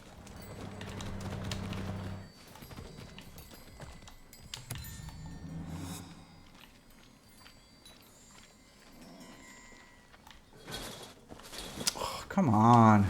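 A horse gallops in the Far Cry 6 video game, hoofbeats and game sounds coming and going while someone talks over them.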